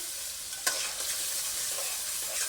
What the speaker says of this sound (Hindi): इसको अब हम बहुत ही अच्छी तरीके से भुनाई कर लेंगे।